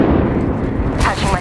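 Frag grenade blast in the video game Apex Legends, set amid dense, continuous battle noise of booming gunfire, with a sharper burst near the end; loud and sustained throughout.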